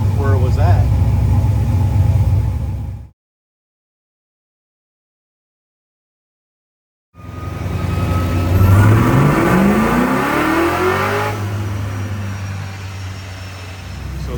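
A Honda sleeper hot rod on a dyno revs hard, its engine note sweeping upward in a loud climb and then holding a steady high drone, after a few seconds of dead silence.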